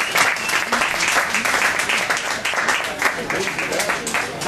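Audience applauding Tommy Chong at a White Hat ceremony in Calgary, a dense, steady wash of many hands clapping at full volume throughout, with voices faintly mixed in.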